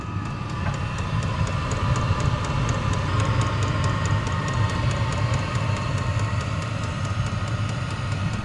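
An HCalory Chinese diesel heater runs steadily after start-up, giving a continuous low mechanical hum and whir with a faint, fast ticking on top, close and unbroken throughout.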